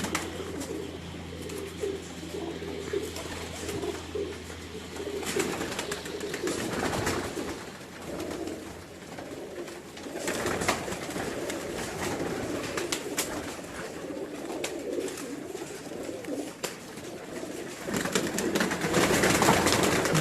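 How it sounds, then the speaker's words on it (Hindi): Sebe-type pigeons cooing in a loft in Gujranwala, soft repeated coos close by over a low background hum, with scattered clicks and rustling. "बात चल रही है अभी सेबे वाले कबूतरों की।"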